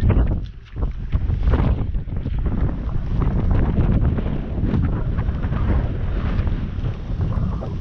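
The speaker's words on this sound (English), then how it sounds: "Windy today." Strong wind buffeting the microphone on the Greek island of Othonoi, a loud continuous roaring rumble with gusty surges throughout and no voices.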